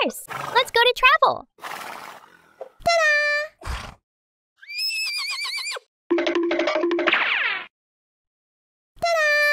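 Toy horse from a children's doctor playset gives several short electronic neighs and whinnies, bright and close, alternating with brief bursts of other toy sounds and pauses of silence.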